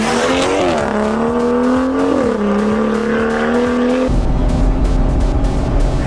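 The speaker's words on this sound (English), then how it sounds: "the wheels were just spinning" A tuned Stage 3 BMW M140i launches down a quarter-mile drag strip, its engine note rising and shifting as the wheels spin, loud and close, then breaking into a rougher, lower roar about two-thirds through.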